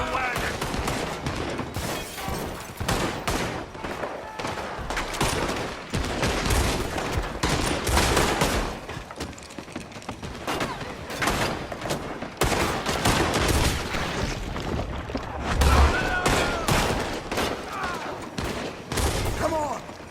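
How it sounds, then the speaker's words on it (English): Rapid, dense Red Dead Redemption 2 gunfire crackles almost nonstop, loud volleys overlapping with scattered shouting voices. "Gun them down!"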